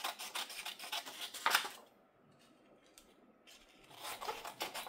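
Scissors cutting across the short end of a paper craft strip, heard as close, soft rasping snips that stop for a quiet moment and then start again.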